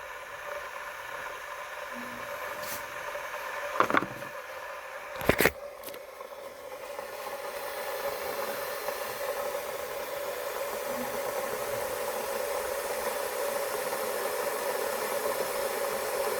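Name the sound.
steam hissing from an electric kettle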